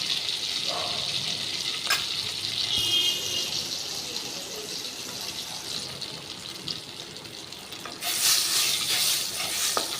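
Panch phoron whole spices with dry red chilies and bay leaf frying in hot oil, giving a steady close sizzle with brief stirring clatters and a louder crackling burst near the end.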